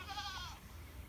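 A goat on a pasture farm with pigs gives a single faint, wavering bleat, heard at a distance over a low steady background.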